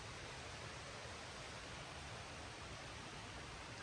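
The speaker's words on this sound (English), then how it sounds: "You can hear the river again." A river flows steadily through the dark night, a constant broadband rush of water close by that holds even and unbroken, with no voices over it.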